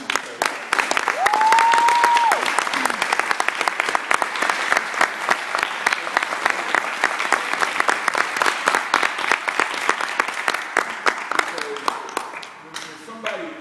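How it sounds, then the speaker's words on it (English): An audience at a school year-end ceremony breaks into a long, loud round of applause honoring the headmaster, dense steady clapping that stays strong for about thirteen seconds before thinning slightly at the end. "give Headmaster Price a huge round of applause"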